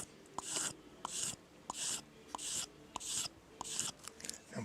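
Knife blade stroked repeatedly against a sharpening stone, in a steady series of about seven even, raspy swipes with short pauses between them, close and clear with no talking.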